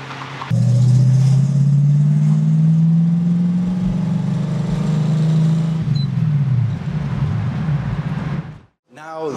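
A 1966 Ford Mustang with a 289 V8 and three-speed gearbox accelerates from inside the cabin, a loud rising engine rumble holding for several seconds before easing off, with speech over it.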